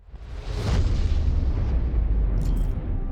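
A heavy tank cannon shot in a video game, a deep booming explosion that swells quickly and rumbles on with a low roar.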